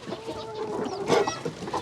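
Chickens coming out of their coop give a few close, moderate clucks over a steady hum of background noise.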